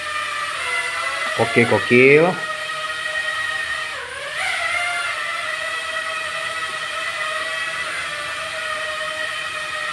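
Small brushless motors of a 4DRC V33S toy drone whine steadily at a high pitch, rising and falling in tone, with a person speaking briefly near the start.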